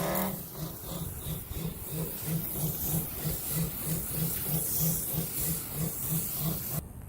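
A PRO300 soft wash system sprays water through a 25-degree nozzle, a loud continuous hiss riding over a fast, regular pulsing pump throb that runs nearly the whole time before cutting off abruptly.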